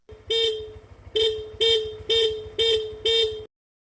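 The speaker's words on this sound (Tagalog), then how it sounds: "Horn." A Honda Click scooter horn honks six times in a steady rhythm, the first a longer toot and the rest short evenly spaced blasts, loud and close over an idling engine.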